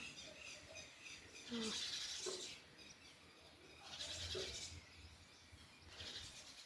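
Sparrows and other small birds chirp outdoors in a few faint bursts, with quiet pauses between the calls and no speech.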